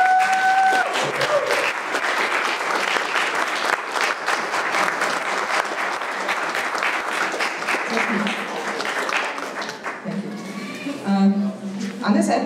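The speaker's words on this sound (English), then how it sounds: "please give a big applause to Michaela" Sustained applause from an exhibition-opening audience fills the room for several seconds, dense and loud throughout, with a few voices and a brief tonal sound near the start and some talk as the clapping thins toward the end.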